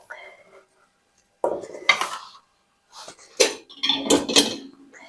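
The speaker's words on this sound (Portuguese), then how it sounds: "Vai colocar a louça aqui" Ceramic dishes and cutlery clink and clatter in bursts as a kitchen dishwasher is loaded, with close, irregular knocks and rattles separated by brief silences.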